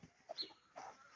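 Faint, brief clucks from chickens near a rural village chicken coop, a few soft scattered calls heard at a distance.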